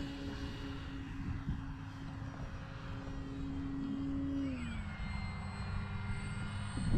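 An FMS PA-18 Super Cub RC model airplane comes in to land, its steady electric motor whine holding a constant pitch and then dropping sharply as the throttle is cut, with gentle outdoor background noise.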